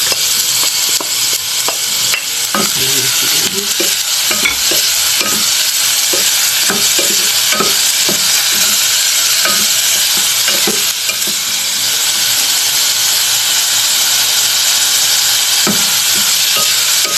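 Ground pork and sautéed onion fry in a pan with a steady, loud sizzle, broken by repeated scraping and stirring strokes from a utensil against the pan, with no voices.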